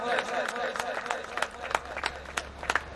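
Audience at a poetry gathering clapping to welcome a poet to the stage, scattered sharp claps in an uneven rhythm, moderately near, beneath a host's voice speaking over the room.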